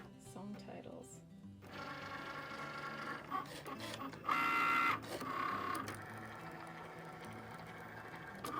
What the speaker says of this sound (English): I push go on the Cricut Maker. Let this baby figure it out and cut out my song titles.